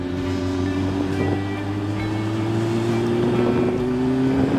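Motorcycle engine accelerating on a ride through the Vercors, a steady rising drone with wind rush, loud and continuous with no talk.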